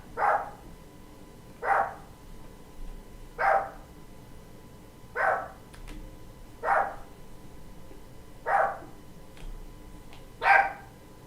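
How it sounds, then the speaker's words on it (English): Pet dog barking indoors, seven single barks spaced evenly about every one and a half seconds, moderately distant and clear against a quiet room. "You can hear my fur baby. And he's barking."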